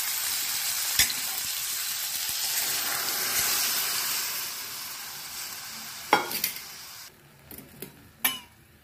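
Steady sizzling of vegetables frying in a pan for sambar, then a splash of liquid and a few clinks and scrapes of a spoon against the pot.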